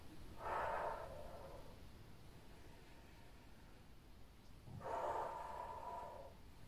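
Two slow, deep breaths during a gentle balance and mobility exercise class, each a soft airy exhale spaced a few seconds apart, faint against a quiet room.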